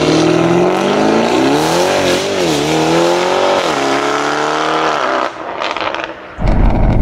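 A Lamborghini Urus with a Novitec exhaust and its flaps open revs hard and loud up close, the engine note climbing and falling in a roar before it cuts off into crackling pops.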